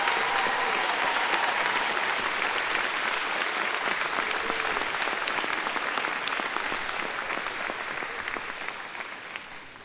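An auditorium audience at an evening commencement ceremony applauds veterans, a dense, steady roar of many hands clapping that holds for several seconds before gradually tapering off.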